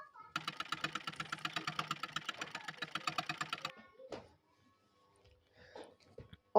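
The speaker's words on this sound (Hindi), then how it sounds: "मजबूती से स्टिच होने के बाद जब हम इसको उल्टेंगे तो लेंस निकलनी नहीं चाहिए, इसीलिए यहाँ हम डबल सिलाई करनी है।" A sewing machine runs a double line of stitching to fix lace onto a blouse design strip, a fast steady rhythm of mechanical stitches for about four seconds, then stopping, followed by faint handling noises.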